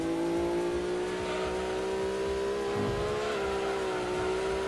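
A Subaru Impreza Wagon in Gran Turismo 2 spins its tires, and the engine holds a steady, loud drone with a slight pitch wobble. It sounds continuous and close throughout.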